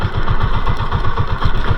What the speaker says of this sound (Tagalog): Alalay lang sa andar na makina para hindi may makaladkad ng agos.